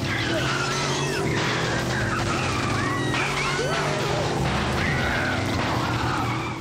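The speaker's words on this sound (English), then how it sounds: "This 3D racing game runs absolutely fine on this laptop." Carmageddon car racing on an old laptop: constant engine drone with repeated tire squeals and skids rising and falling throughout, loud and steady, with a voice talking over it.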